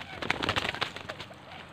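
A wild quail calls near a decoy quail, giving a quick burst of short, rough, cooing notes fairly close by that fades into quiet outdoor background.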